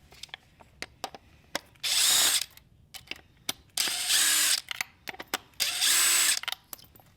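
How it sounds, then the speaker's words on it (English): A power drill whirs in three bursts of about a second each as it spins out Allen bolts on a Talaria TC500 electric motorbike controller, with small clicks and taps between bursts, close up and without talking. "we're gonna put our drill on it just to save some time"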